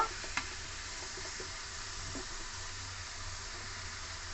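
Potato peels frying in oil until reddish and crisp, a steady, quiet hiss with a faint tap near the start and no voices.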